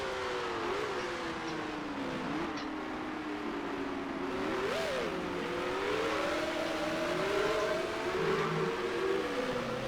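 High, wavering whine of a 1965-era Grand Prix race car engine in the racing sim Grand Prix Legends at Sandown, revving up and down continuously as the car is driven with bad toe alignment.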